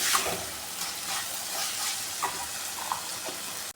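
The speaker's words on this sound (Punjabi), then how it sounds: "ਤੜਕਾ ਸਾਡਾ ਭੁੱਜ ਗਿਆ" Asafoetida tempering for mixed dal sizzles steadily in a hot pan, a continuous crackling fry with a few brief louder pops, close and alone without any voices.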